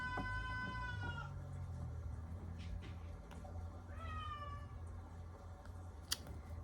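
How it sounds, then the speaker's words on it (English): A cat lets out two long, loud, drawn-out meows a few seconds apart, close by over a low steady background hum. "My cat just got really loud."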